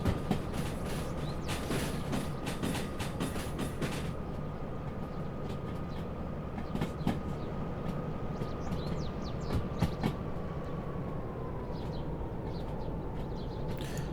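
A DE6 diesel locomotive in the Derail Valley game rolling over a crossing line, with a steady low engine drone, a faint whine and scattered rail clicks and clacks, continuous and close, with no talking.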